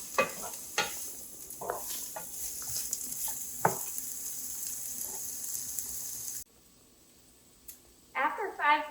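Green peppers and onion sizzle in a hot pan, a soft continuous frying hiss broken by scraping stirs and clicks of the utensil, going quiet for a moment before stirring resumes.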